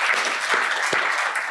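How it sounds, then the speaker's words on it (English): A round of applause for Jen at a startup capital summit, a dense, even burst of many hands clapping that fills the whole short moment. "we need to just give a round of applause to Jen for the work she's done here"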